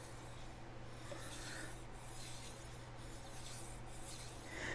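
A chef knife is sharpened on a stone, soft rhythmic scraping strokes repeating about once a second, close and quiet with a low background hum.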